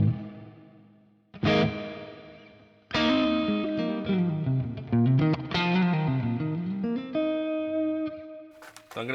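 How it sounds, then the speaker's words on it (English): An electric guitar plays distorted, sustained chords and bending notes through a Fractal amp modeler, with a washy deluxe spring reverb tail ringing after each phrase. "deluxe spring reverb"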